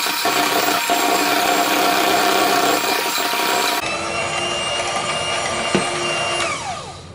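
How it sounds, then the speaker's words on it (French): An electric hand mixer beats eggs and sugar for chocolate banana muffins, a loud continuous whirring buzz that shifts pitch partway through and keeps droning to the end, with no talking. "Il faut bien battre les œufs et le sucre"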